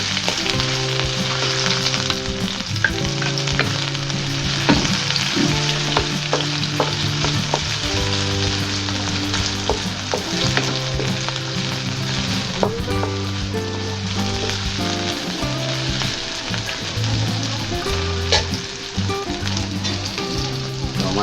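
Tomatoes frying with squid in a pan for Filipino adobong pusit, a loud, steady sizzle with stirring scrapes throughout, no voices.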